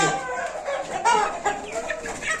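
Chickens cluck and chatter close by in quick, overlapping bursts, a busy flock sound with no talking.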